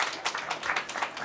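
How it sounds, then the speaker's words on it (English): A seminar audience applauds after a talk, with dense, steady clapping from many hands filling a short moment. "Let's give him another round of applause."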